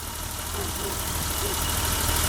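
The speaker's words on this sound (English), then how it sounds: "I'm going to let it run for a little bit and kind of warm up" A 1988 BMW 325i, just revived after six years sitting and a fuel pump replacement, idles steadily as it warms up, a low, even engine hum with a faint background hiss.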